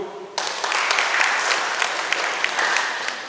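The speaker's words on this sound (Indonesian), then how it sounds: "Tepuk tangan dulu." A crowd at a police chief's gathering with journalists and media breaks into loud, sustained applause after a short lull, the clapping thick and even throughout.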